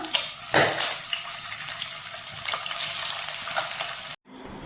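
Fish fries steadily in hot coconut oil, a continuous close crackling sizzle with a few sharper pops, then the sizzle drops out abruptly near the end, leaving a fainter hiss.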